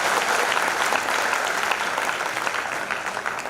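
An audience at a Hindi kavi sammelan poetry recital breaks into dense, sustained applause, loud and even throughout, fading slightly at the end with no talk over it.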